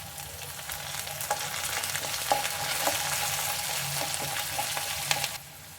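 Tamarind and chutney ingredients, drumstick leaves among them, sizzle in a pan and are stirred, a steady close frying hiss broken by light scraping strokes, with no talking, ending abruptly.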